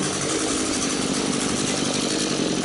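An old Echo chainsaw from around 2002, fitted with a replacement carburetor, runs steadily at close range, holding one continuous buzzing engine note with no pauses and no talking.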